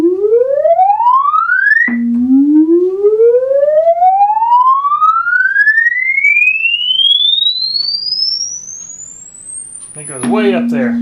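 A 1972 Minimoog synthesizer oscillator sweeps steadily upward in pitch, first in a quick two-second rise, then in a long slow climb to a very high whine, with a brief burst of other tones at the end; loud and alone.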